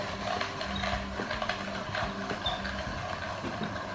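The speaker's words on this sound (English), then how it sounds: "we're just going to grind a bit out here." A hand coffee grinder, like a peppermill, crushing filter coffee beans with a steady, scratchy ratcheting crunch that runs close and continuous throughout.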